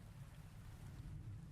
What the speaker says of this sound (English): Rain begins to touch the surface of the water, one drop at a time.